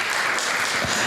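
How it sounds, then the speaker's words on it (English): Audience applause at an event promoting diabetes technology: a crowd clapping steadily and densely, loud and continuous across the whole moment, with no voices breaking through. "Dr. Kenneth Lee on stage with a round of applause, please."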